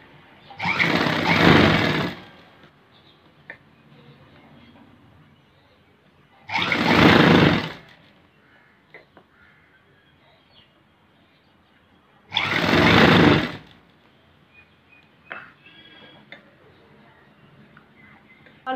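Sewing machine stitches a blouse in three short bursts of fast whirring, each about a second or two long, separated by quiet pauses with faint clicks and handling noises.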